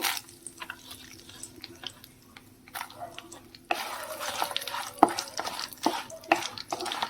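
Dried red chillies tossed and stirred in hot mustard oil with nigella seeds in a pan, giving a soft sizzle with scraping and clinks that grow busier partway through, a few sharp knocks standing out.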